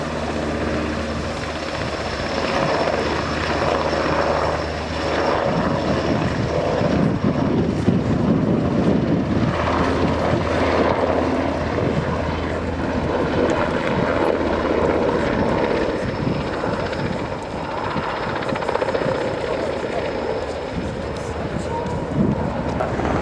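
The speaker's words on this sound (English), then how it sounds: "These helicopters are licensed built by the Finnish company Patria." A Finnish NH90 helicopter flies at the RIAT airshow, a loud continuous rotor and turbine roar that holds steady throughout, with faint crowd or commentary sounds mixed underneath.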